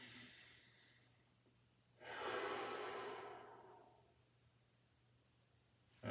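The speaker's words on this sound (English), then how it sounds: "just breathing." One long, soft breath drawn and released during a slow hip mobility exercise, close and faint in a quiet room.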